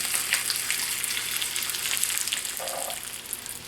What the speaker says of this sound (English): when you're frying streak lean, or bacon for that matter, lots of turning is a good thing